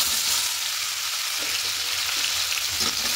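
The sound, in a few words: plums stirred and frying in spiced oil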